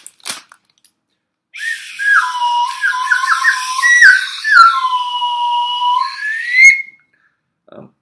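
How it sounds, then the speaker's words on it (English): A cheap toy slide whistle, bought from a holiday store display, plays close and loud. Its pitch glides up and down in a series of wavering swoops for about five seconds, with no talking over it. "Next, we have the slide whistle."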